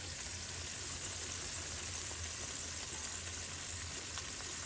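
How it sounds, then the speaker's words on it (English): Pork chops fry in a pan with a continuous, even sizzle and hiss that stays close and fairly loud throughout, with a faint low hum underneath and no voices. "we're gonna let that fry on one side for 3 minutes, 3 to 5 minutes"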